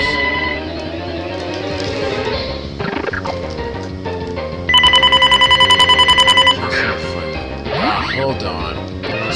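A telephone rings in a clear pulsed burst of a couple of seconds, cutting in over continuous talk and background game music during a Pokemon Black play session.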